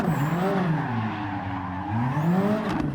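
A car drifts sideways in Gran Turismo 7, its engine note rising and falling steadily as the tyres squeal under throttle through a transition, loud and continuous with no speech.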